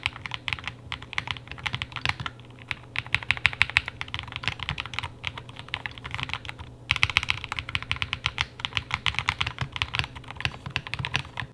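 Rapid, continuous typing on a wooden mechanical keyboard fitted with purple key switches, close and crisp, with dense clacking keystrokes and a brief pause near the middle before the typing resumes.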